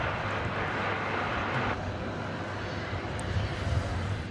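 Jet airliner at DFW Airport heard from a distance as a steady broadband roar, faint and continuous, with a slight drop partway through and no talk.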